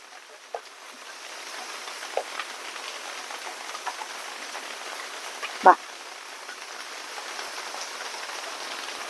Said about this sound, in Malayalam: പുറത്ത് നന്നായിട്ട് മഴ പെയ്യുന്നുണ്ട്